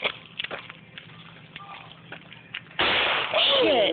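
Fireworks going off by a river: scattered pops and crackles at first, then a loud sustained rushing burst of shooting and crackling with whistling streaks; voices are heard nearby.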